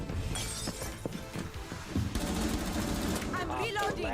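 Impact grenade blast in the Rainbow Six Siege video game, a sharp shattering burst within loud, dense game action, with scattered gunfire and talk alongside.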